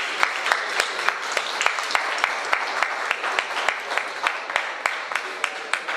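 A live concert crowd in Termini Imerese applauds a singer, dense rhythmic clapping in a near-steady beat, loud and continuous throughout.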